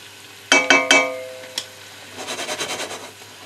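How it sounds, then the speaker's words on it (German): Shallots drop into a hot pan with a few sharp clattering hits, followed by a short burst of rhythmic sizzling and stirring, close and fairly quiet, with no voices. "dann kann ich beginnen, mein Gemüse anzubraten"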